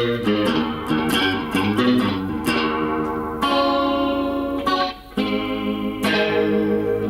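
Electric guitar played through a TS Mini chorus pedal at a high speed setting, giving fast warbling, shimmering chords and notes played continuously.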